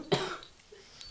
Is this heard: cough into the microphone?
yes